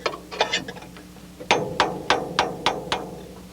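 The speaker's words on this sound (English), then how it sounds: "all we have to do is tap on our punch" A hammer taps a punch to seat the sockets on a Case IH 1600 combine: a few soft taps, then six sharp metallic strikes in an even rhythm, close and clear over a quiet background.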